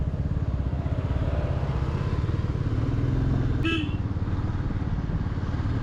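A motorcycle rides along a highway from Pune toward Dharchula, its engine chugging steadily and close for the whole stretch, with a brief horn toot partway through.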